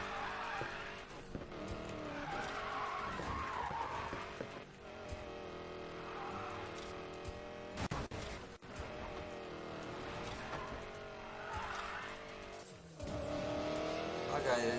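Car engine roaring and tires squealing as a car drifts and skids off-road in the racing game Need for Speed Payback, continuous revving with pitch sweeps, while someone talks over it.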